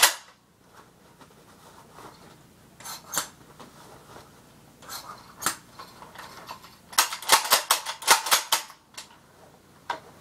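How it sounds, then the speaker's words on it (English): A shotgun is racked, a few sharp metallic clacks and rattles, with a quick cluster of louder mechanical clicks near the end, close by. "Rack the shotgun."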